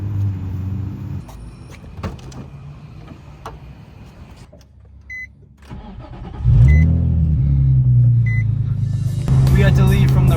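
A Nissan 350Z sports car engine idles steadily at a late-night street meet, then grows louder and fuller as it revs near the end, with people talking over it throughout.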